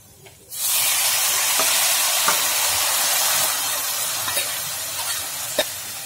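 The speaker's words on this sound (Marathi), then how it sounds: "तेलात ही जी पेस्ट आहे चांगली परतल्यावरती आपल्याला याच्यामध्ये घालायचं आहे जे मूग आपण उकडून घेतले होते" Boiled green moong beans are dropped into a paste frying in hot oil in an Indian kitchen. A loud, steady sizzle starts abruptly and continues while a spoon stirs, with a few soft scraping taps and no talking.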